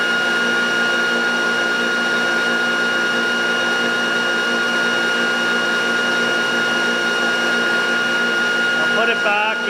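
A steady whirring hum comes from the AVL ReGenX generator prototype running in regenerative acceleration mode, with a constant high motor whine and a brief clatter at the end.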